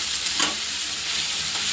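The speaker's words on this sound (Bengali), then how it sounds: "তো পেঁয়াজটা ভাজা হতে থাকুক" Chopped onion fries in a pan with a continuous close sizzling hiss and light stirring scrapes, no voices over it.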